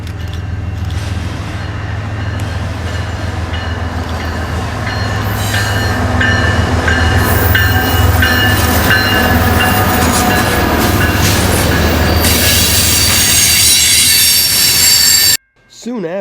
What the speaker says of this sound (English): we find CN 2913 leading a manifest turning east on the Madison